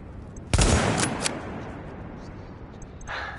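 A short loud burst of gunfire in the video game Tom Clancy's The Division, several sharp shots close together, then fading into quieter background ambience with a faint later noise.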